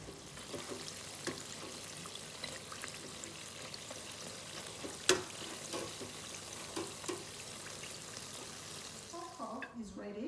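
Puff puff dough balls fry in a digital fryer with a faint, continuous bubbling sizzle and small crackles, plus a brief sharp click midway. A voice speaks briefly near the end.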